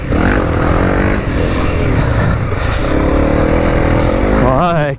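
Honda CRF 300 L motorcycle accelerating in third gear, a steady loud engine drone rising in pitch over several seconds, with a sharper rev climb near the end and talk running over it.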